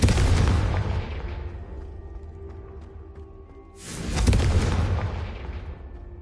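A Confringo fire spell explodes in Hogwarts Legacy, two heavy booming blasts a few seconds apart, each with a broad roar that rumbles and slowly fades.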